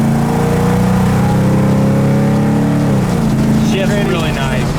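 A 1972 big block Chevrolet Monte Carlo V8 with a 4-barrel carburetor accelerates, a loud, close engine drone rising in pitch through the gears, with talk over it.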